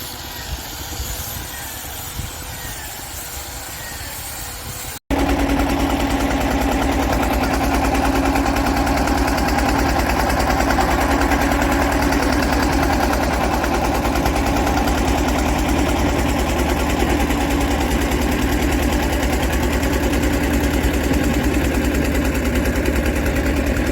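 An engine boat idles on the Bidyadhari River in the Sundarbans. After a quieter opening, a loud, steady engine thrum with a low mechanical rumble starts and runs on continuously and close by.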